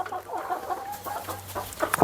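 Meat chickens on a small farm cluck in a continuous, murmuring chorus, close and moderately loud, with a few sharper calls near the end.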